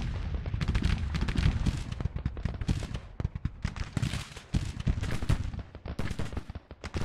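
Cannon fire from artillery batteries booms repeatedly in the Civil War strategy game Grand Tactician, a dense, rolling series of sharp blasts mixed with musketry and battle noise.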